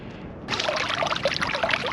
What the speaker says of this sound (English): Here's a spring that's bubbling up.